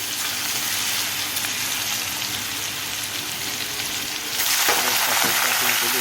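Garlic, green chilies and a bay leaf frying in hot oil in a pan, a steady loud sizzle that swells louder and brighter partway through, with occasional stirring.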